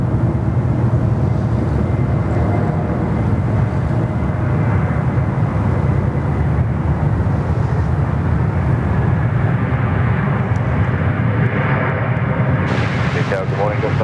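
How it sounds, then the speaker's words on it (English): An airliner on short final for runway 34 right at Sydney Airport gives a loud, steady broadband engine roar that fills the whole stretch, with a radio voice faintly over it near the end. "Just on short final here for runway 34 right"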